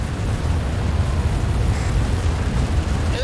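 A Pelican dropship crashes and explodes in the Halo 4 video game, heard as a loud, continuous roaring rumble with heavy low-end that never lets up.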